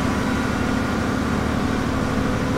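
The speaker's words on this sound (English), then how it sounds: "We've got the generators running, so excuse the noise." Generators aboard a 34-metre Hakvoort superyacht drone on in a constant, even mechanical hum that fills the space at moderate volume. There is no talking.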